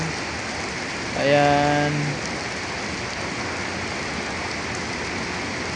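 Heavy night rain in Santa Cruz, Manila pours as a steady, dense hiss, and someone briefly speaks over it early on.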